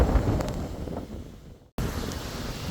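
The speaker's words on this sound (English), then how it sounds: "A bit windy out here, but I hope you can hear this" Wind buffets the microphone in loud gusts at an outback ghost town mine pit, easing off briefly before a short gap and then returning just as strongly.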